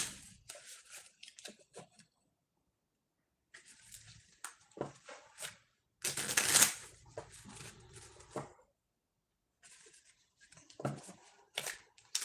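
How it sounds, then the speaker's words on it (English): Tarot cards are shuffled in short bursts of riffling and tapping, with quiet pauses between handfuls and one louder flurry in the middle, close and crisp. "So let's shuffle and tap in."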